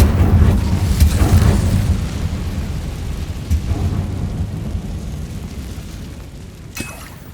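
An Incendio fire spell in Hogwarts Legacy erupts with a loud, roaring fiery rumble that slowly decays over several seconds, with a sharp crack near the end.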